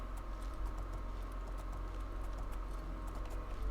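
Quiet, rhythmic clip-clop of horse hooves in the video game The Elder Scrolls IV: Oblivion, a steady trotting patter over a low background hum.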